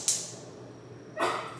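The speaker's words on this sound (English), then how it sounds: "Don't bark at me like I'm the bad guy" A dog gives two short, sharp barks or yips nearby, separated by about a second of quiet, with no talking.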